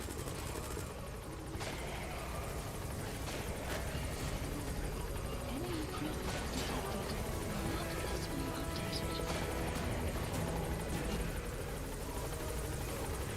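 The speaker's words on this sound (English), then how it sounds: "Support helicopter has arrived." A support helicopter in a video game, a constant loud rotor drone that holds steady throughout, with faint game effects and voices mixed underneath.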